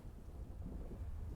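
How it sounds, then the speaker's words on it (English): Faint, low rumbling thunder rolls continuously beneath soft rain-like noise during a thunderstorm in the video game Generation Zero. "Is there a thunderstorm coming in?"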